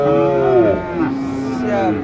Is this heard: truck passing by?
no